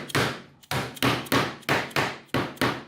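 A length of PVC pipe is hammered into a plastic connector while building a filament storage rack: seven loud, evenly spaced blows, each a sharp crack that fades quickly, close by and with no voices.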